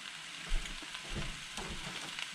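Sausage fries in a pan with a quiet, steady sizzle and a few soft low bumps, and no one speaks.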